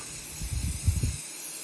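Rust-Oleum Rust Reformer sprayed from an aerosol can onto a John Deere riding mower deck, a short, soft hissing burst lasting about a second before cutting off, fairly quiet and close.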